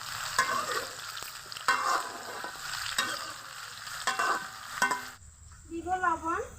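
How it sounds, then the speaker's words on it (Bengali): Ridge gourd and green chillies sautéed in a pan with black cumin make a crackling sizzle broken by several sharp spatula scrapes and clacks, followed by a brief sliding, warbling tone near the end. "দিব কাঁচামরিচ, দিয়ে দিব কেটে দিয়ে রাখা ঝিঙ্গে, কিছুক্ষণ কষিয়ে নেব।"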